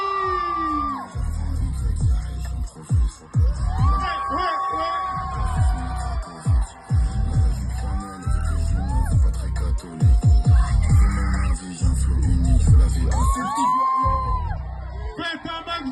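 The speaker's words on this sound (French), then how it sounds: "Et on peut les applaudir encore." A large crowd at the GP Explorer 3 motorsport event whoops, yells and cheers loudly and continuously, with shouted voices and a host speaking over the roaring noise.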